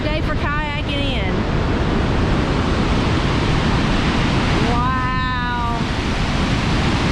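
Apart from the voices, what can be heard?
flooded waterfall roaring in Tennessee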